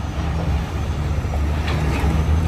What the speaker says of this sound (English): Now I go in with the deck winch.